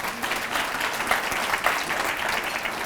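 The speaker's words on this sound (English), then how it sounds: "Give them all a round of applause as well." An audience at an awards expo applauds volunteers with dense, steady clapping throughout, moderately close and with no talking over it.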